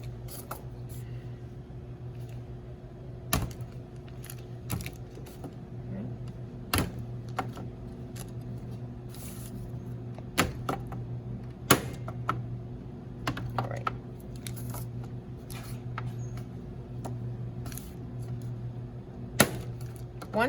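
A knife taps sharply on a cutting board while cold butter is cut into small cubes for an all-butter pie crust, sparse irregular clicks over a steady low hum.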